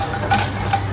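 Fox nuts (makhana) frying in hot oil in a pan, a soft steady sizzle with a couple of brief stirring scrapes, close and continuous.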